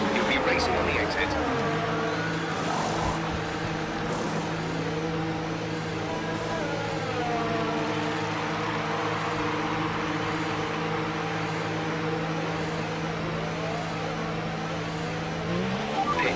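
F1 2019 video game race car engines whine at steady high revs, a sustained droning tone with shifting pitch, loud and continuous, with a voice speaking over it at times.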